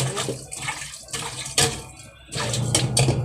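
Water splashes and pours in short bursts, close and fairly quiet, while a small amount is added during outdoor cooking of an eggplant and cucumber salad.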